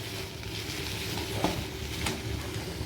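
Chicken with whole onions sizzles and crackles in a pan while a metal spatula stirs it, a dense close frying hiss with occasional scraping clicks.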